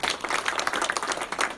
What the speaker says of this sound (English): Round of applause for our first volunteer.